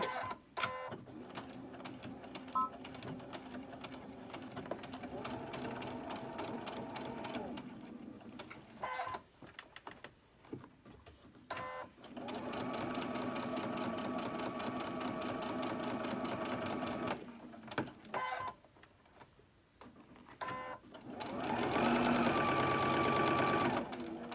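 A home sewing machine stitching a quilt runs in long, steady mechanical bursts separated by short pauses, loud and close, with a final fast run near the end.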